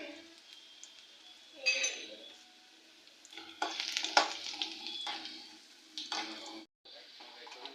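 Garlic sizzles in hot oil along with mustard seeds and cumin, a crackling fry broken by scraping stirs and a few bursts of spluttering, with a short quiet gap near the end and no talk.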